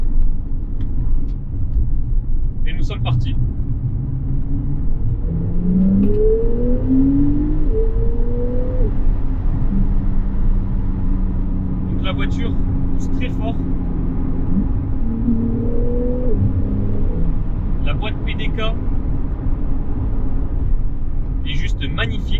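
Porsche 911 GTS engine and exhaust pulling steadily under acceleration, a loud continuous low rumble with rising and falling engine tones, while someone talks over it throughout.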